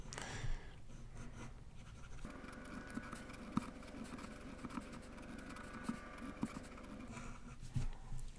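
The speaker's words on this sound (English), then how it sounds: "I'm going to draw another piano." Marker strokes on a classroom board as a piano keyboard diagram is sketched, steady scratchy squeaks and taps running throughout, fairly close, with no talking.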